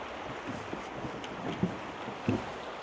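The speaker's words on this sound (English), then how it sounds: "This water is really flowing good." Rock Creek in Twin Falls, Idaho runs strongly past a footbridge, a steady broadband rush of water with wind buffeting the microphone and a few soft knocks, no one speaking.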